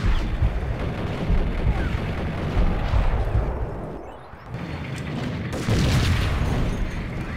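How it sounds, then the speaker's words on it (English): An explosion in the video game Max Payne booms loudly with a rumbling roar that dips briefly midway, then swells again into dense, sustained blast noise. "Imagine walking into a fucking explosion."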